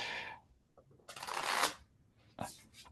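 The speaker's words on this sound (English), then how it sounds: "It looks like Swarthy's now shuffling a deck of cards" A deck of playing cards being shuffled at a desk, riffled in a few short bursts with pauses between, fairly close and quiet, with a voice talking at the start.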